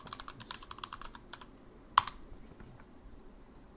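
Fingers type a folder name on a computer keyboard, a quick run of close, light key taps with one louder sharp keystroke partway through, then sparse clicks trailing off in a quiet room.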